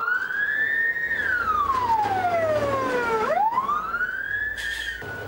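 Wailing siren of a departing fire engine responding to an alarm, a loud sweeping tone that rises and falls slowly, then climbs sharply again over steady traffic rumble.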